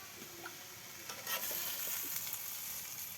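Lentils dropped into hot oil, bursting into a loud, bright sizzle that swells midway and stays steady and close, with faint stirring scrapes and no voices.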